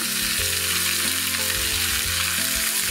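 Minced meat frying with onions and carrots in a pan, a dense, steady, close sizzle with a low tonal hum running underneath throughout.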